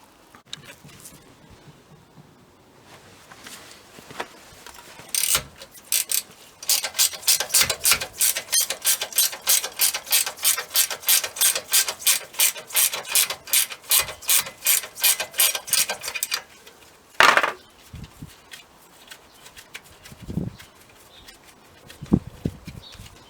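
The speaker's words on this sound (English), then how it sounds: "I'm going to take those 18mm bolts off and I'm going to drop the unit off." A hand ratchet clicks in a fast, steady run of about thirty even strokes while undoing 18mm bolts on a Mercedes Vario rear brake caliper, with a few separate metallic knocks and clunks before and after the run.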